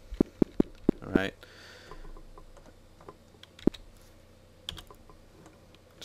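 Arrow keys tapped on a computer keyboard, with four quick evenly spaced clicks, then a short cluster, and a few scattered presses later, fairly close and clear against a quiet background.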